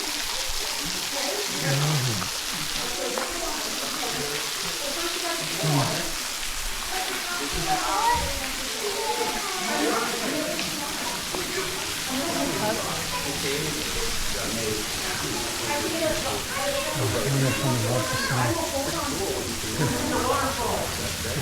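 Steady rushing water of a waterfall in the Black Hills, a continuous broadband roar with splashing texture throughout, with people talking over it.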